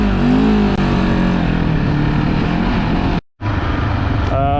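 A Benelli TRK700 motorcycle engine and exhaust on a first ride, a loud steady drone with rising pitch as it accelerates, one brief cut, then the engine resumes.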